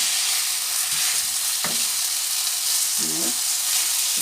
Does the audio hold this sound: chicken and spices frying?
yes